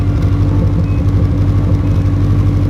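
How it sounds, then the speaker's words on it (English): A Subaru STI engine idles steadily and loudly up close, with a deep, even rumble throughout. "Listen to that idle."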